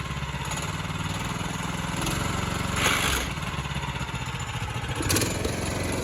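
Engine of a custom-built quad bike running steadily and revving under light throttle, with two brief rises in pitch and loudness, close and loud, no talking.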